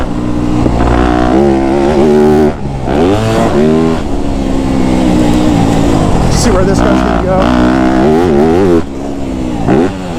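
A Yamaha YZ250F dirt bike engine revs and whines up and down continuously, loud and close, with someone talking briefly over it.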